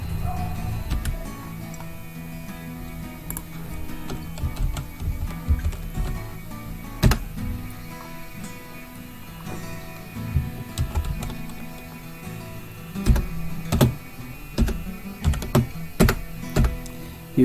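Fingers typing on a laptop keyboard, close up, with irregular bursts of crisp key clicks and a few sharper taps over a low steady hum.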